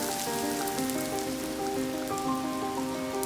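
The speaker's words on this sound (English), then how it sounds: "just show you the garden in the rain" Steady rain falls on a garden with raised beds, a dense, even patter of drops on leaves and surfaces that continues without pause. No one speaks.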